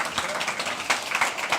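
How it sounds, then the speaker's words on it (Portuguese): Church congregation applauding during a worship service, brief, fairly soft scattered clapping in a short rhythmic burst, with voices faintly mixed underneath. "Será que você pode aplaudir o Senhor?"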